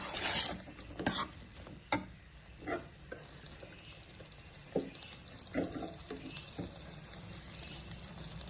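A spoon stirs and mixes gobi manchurian in a pan with a saucy, gravy-like coating, making intermittent scraping clinks and wet, sticky churning at close range over a low sizzle, with no talking.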